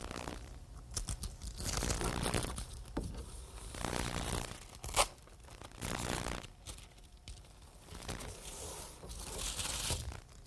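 HomeRight Quick Mask paper masking material tearing and crinkling in repeated bursts, close and fairly loud, with a sharp rip near the middle and no voices.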